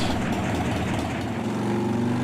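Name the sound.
motorcycle engine idling cold, S&S TC3 oil pump test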